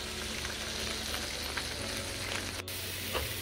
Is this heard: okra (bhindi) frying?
yes